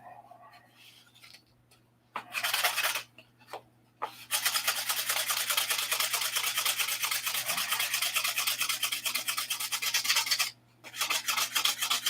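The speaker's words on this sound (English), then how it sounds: "I'll be sanding." Steady rasping sanding strokes rub back and forth close by, starting in short bursts and then running continuously with a brief pause near the end.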